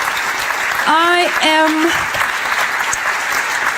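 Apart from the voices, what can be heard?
audience applause at lecture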